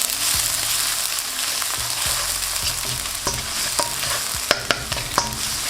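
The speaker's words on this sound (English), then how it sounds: "in with the white batter of the green onions. With your garlic, you want to saute these for a few minutes." Garlic and the white parts of green onions sautéing in hot oil in a wok, a loud continuous sizzle with stirring scrapes and clacks of a utensil, several sharp knocks near the end.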